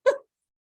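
A single short, sharp dog bark indoors at a house, close and clear, followed by silence.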